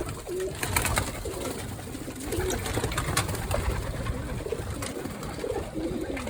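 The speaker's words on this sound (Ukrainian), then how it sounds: "Це старі голуби, стара лінія голубів" Pigeons coo softly in short repeated calls over a busy background of rustling, fluttering and scattered clicks, fairly faint and close by.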